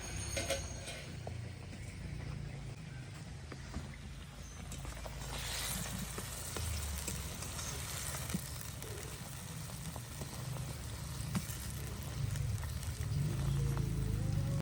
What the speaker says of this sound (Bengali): ঢাকনাটা তুলে এবার কপিগুলো উল্টিয়ে দেবো